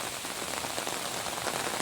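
Heavy rain pours during a strong storm at a homestead, a dense, continuous hiss of drops hitting surfaces that stays loud and even throughout with no voices.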